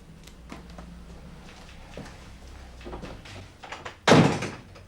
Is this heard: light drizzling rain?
no